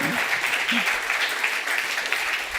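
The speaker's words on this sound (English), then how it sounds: "Please give a warm applause for Johan Garssen" Audience applause at a food sovereignty conference in Rotterdam, welcoming a speaker onto the stage; steady, dense clapping from a crowd throughout, with no voices over it.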